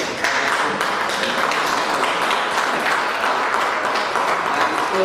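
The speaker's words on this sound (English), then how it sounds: "But I'd like to applaud the guy from Chitanga" An audience at a spelling bee claps in steady, dense applause for about five seconds, with the sound fairly close and continuous.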